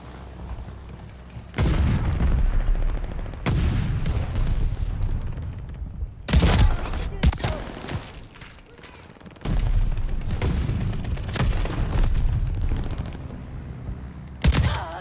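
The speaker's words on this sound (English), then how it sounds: "Allies called a bombing run." An air bombing run in Call of Duty Vanguard multiplayer brings heavy booming explosions and bursts of gunfire in loud, repeated waves, with brief quieter gaps between impacts.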